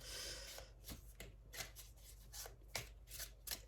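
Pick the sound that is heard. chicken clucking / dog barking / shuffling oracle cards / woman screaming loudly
shuffling oracle cards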